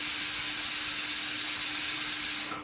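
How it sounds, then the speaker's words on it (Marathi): Steam hisses out of a pressure cooker cooking khichdi in a steady, loud, unbroken rush with a faint low tone underneath, cutting off abruptly at the end. "तर आता येतोय कुकरचा आवाज"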